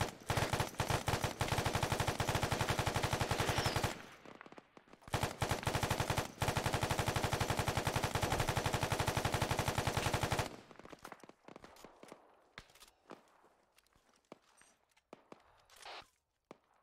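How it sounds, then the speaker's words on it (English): ARMA 3 battlefield gunfire: long bursts of rapid automatic fire crackle continuously, pause briefly, resume, then thin out into scattered single shots and distant pops. "Taking fire from the southwest."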